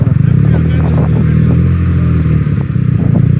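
A BMW motorcycle engine revving loud and close while riding off-road, a steady throbbing drone with slight rises and clattering, and someone talking over it.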